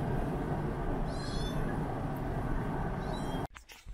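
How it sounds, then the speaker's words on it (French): A cat lets out a couple of faint, high meows over the constant low rumble of a moving 2019 Tesla Model 3 Long Range. "avec le chat dans la voiture que vous entendez derrière"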